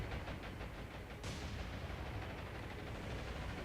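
20 millimeter anti-aircraft guns fire during an air attack on a battleship in the War on the Sea video game, a dense, continuous rumbling barrage with rapid overlapping thuds and no pauses.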